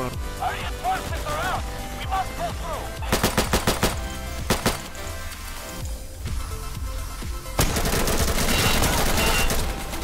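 Rapid bursts of automatic gunfire from the video game Insurgency, loud and close, with clustered volleys, sustained firing toward the end and a voice talking in between.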